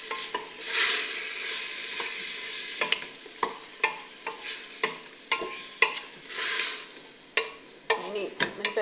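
Nejmat with dried meat (gueddid) sizzle in a hot pan while a utensil stirs and scrapes against it, giving repeated clinks and swishes over a steady frying hiss.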